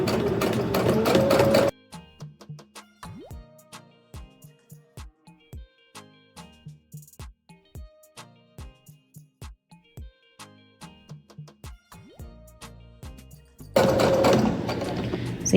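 A sewing machine stitching fabric to gather a ruffle for a quilted pouch, running in a steady rapid chatter of needle strokes close up, with louder bursts at the start and end.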